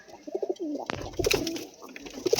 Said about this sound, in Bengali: পায়রা ছাড়ো, পায়রার স্ট্যান্ড কোয়ালিটি দেখো।